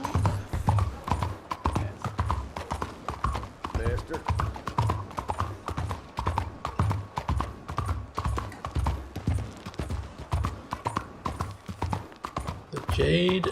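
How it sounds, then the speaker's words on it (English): A horse moves at pace in the Western game Red Dead Redemption 2, its hooves clip-clopping in a steady rhythmic beat throughout, with a brief whinny and a voice talking over the hoofbeats. "My horse is ready to meet me here."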